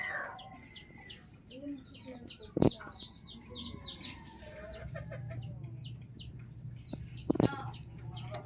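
A caged chicken clucks and calls in short bursts close by, with a few sharper knocks against the cage, while someone talks over it throughout.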